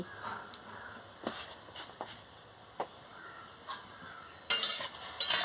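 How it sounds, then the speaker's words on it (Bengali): Turmeric is stirred into fish curry in a pan: soft intermittent scrapes and clinks over a faint sizzle, with a louder burst of frying hiss near the end and no talk. "দিয়ে ভালো করে নাড়িয়ে নিচ্ছি"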